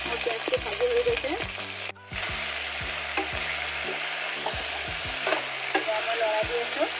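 Onions fry in hot oil in a pan with split dry red chillies for a drumstick curry, crackling and sizzling up close while a spoon scrapes and stirs in quick repeated strokes, with one brief dropout midway.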